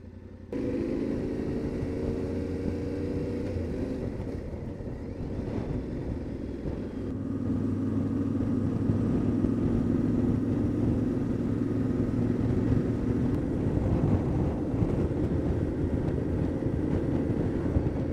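Motorcycle on Michelin Anakee Wild knobby tires rolling over tarmac on Croatian mountain roads gives a steady low rumble and road roar that swells slightly partway through, loud and continuous with no talking.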